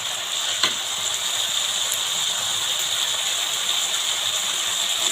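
Rice sizzles as it fries in cooked-down spiced masala for hilsa fish pulao, a steady close hiss with no break and no voices.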